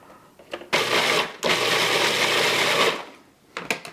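A food processor blends and pulses an Indonesian yellow spice paste for chicken in coconut sauce: two loud sustained whirring bursts, the second longer, with short pulses and scraping clatter around them.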